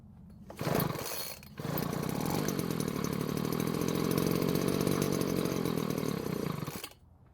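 A Weedeater handheld leaf blower's two-stroke engine sputters briefly, then catches and runs at a loud, steady high-pitched drone for about five seconds before cutting off, with no talking.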